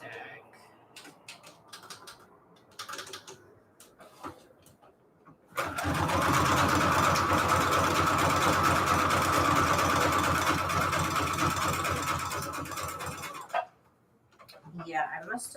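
A home sewing machine runs a zigzag stitch in one long, loud, continuous burst, its rattly mechanism clattering steadily before stopping, with quiet talk and handling noises before and after.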